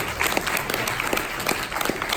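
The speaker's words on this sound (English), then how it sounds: "Give him a round of applause" Audience applause at a talk on contact mapping, a steady mass of clapping hands with scattered sharper claps standing out, moderately loud and continuous.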